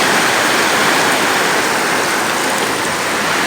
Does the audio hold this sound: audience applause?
no